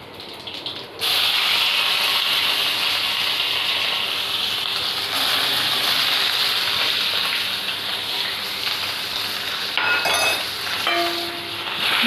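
Kadhi mixture poured into a pan of hot cumin tempering, setting off a loud, steady sizzling hiss that starts abruptly after a moment and carries on without pause, with no talking.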